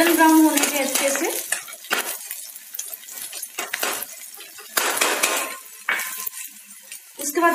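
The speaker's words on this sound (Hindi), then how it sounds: "लहसुन को गोल्डन ब्राउन होने के अच्छे से" Chopped garlic and fine ginger fry in a pan for dhaba-style egg curry, a steady sizzle broken by repeated scraping and clinks of a spoon stirring against the metal, close and fairly loud throughout.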